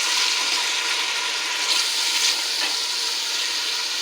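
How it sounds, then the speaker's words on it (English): Ground turkey fries in oil in a pot, producing a steady, dense sizzle that holds constant and loud throughout with no voices. "my meat's cooking"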